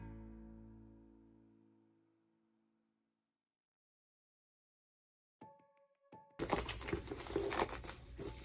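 A plastic bag being opened while unboxing a pack of 40 pairs of winter warmers, a fading tone, then silence, a few light clicks and a burst of loud, close crinkling near the end.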